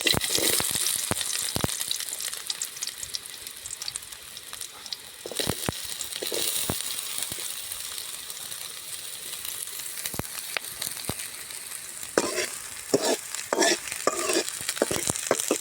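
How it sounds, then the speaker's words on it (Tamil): Onions frying in hot oil in a pan for a chicken curry, stirred steadily with a spoon; a continuous close sizzle with repeated sharp scraping strokes throughout, no voices. "வெங்காயம் நல்லா பொன்னிறமாக சவுண்டு வர வரையும் நம்ம கிண்டிக்கிட்டே இருக்கோம்"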